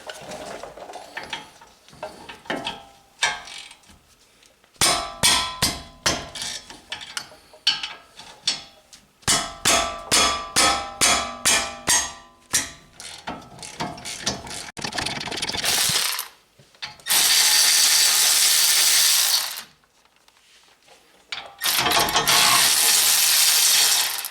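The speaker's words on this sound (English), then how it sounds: "Probably a 1/2 inch ratchet makes it a lot easier." A 1/2 inch ratchet works on the caliper bracket bolts of a 2018 Honda Accord during a front brake job, giving loud, close runs of rapid clicks, then longer bursts of harsh mechanical noise separated by short pauses.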